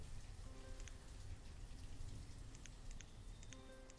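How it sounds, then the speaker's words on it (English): Steady rain from the village-building game Banished, a dense, even hiss of falling water with soft droplet ticks running throughout, fairly faint and with no talk over it. "Because it's raining."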